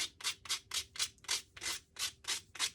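Cloth rubbing back and forth over a small painted wooden sign to wipe it clean, a steady run of about ten close, scratchy strokes in an even rhythm with no talking.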